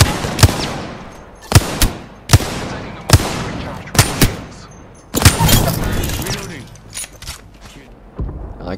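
Gunfire in Apex Legends, where the Wingman and R-99 are in use. Loud, sharp single shots crack at irregular intervals, then a denser burst of shots follows and trails off.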